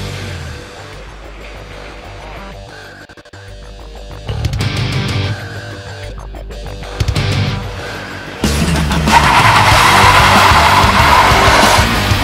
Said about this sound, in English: We're test driving the new Forte.